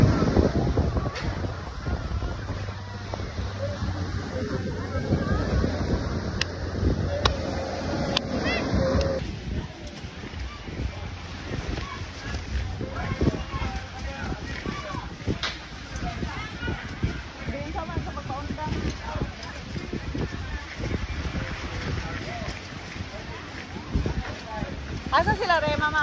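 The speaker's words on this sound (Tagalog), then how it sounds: "Grabe ka hangin." Strong wind roars and buffets the microphone continuously, with rumbling gusts and people talking intermittently beneath it.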